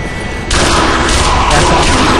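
Sustained automatic gunfire in Nazi Zombie Army, a dense, loud, close roar of rapid shots starting abruptly and running without a break.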